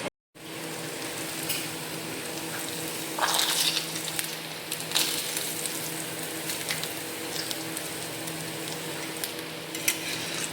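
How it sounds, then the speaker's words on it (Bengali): Papad frying in a pan of hot oil, a steady close sizzle and crackle running throughout, with a few sharper pops and bursts along the way. "এই যে পাঁপড়, এগুলো সব ভাজবো।"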